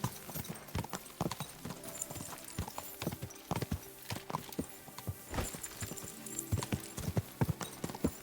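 Horse hooves gallop in the medieval game Kingdom Come: Deliverance 2 on hardcore mode, a quick, steady run of clip-clop strikes at moderate loudness with no voices over them.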